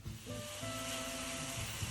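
Onions cook gently in a pan over low heat, giving a soft, steady sizzle with a faint high hiss and low background hum, no voices.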